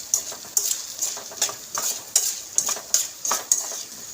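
About ten rhythmic scrapes of a spoon through chopped onions and crushed green chilli in a pan, over a soft sizzle, while making a Kerala karimeen pollichathu masala; close and even, no voices.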